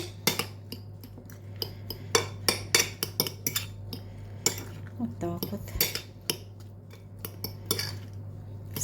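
A spoon clinks and scrapes rhythmically against a bowl as ingredients, ground black pepper and salty sausage, are mixed for hot sandwiches, with repeated sharp metallic taps over a steady low hum and no talk.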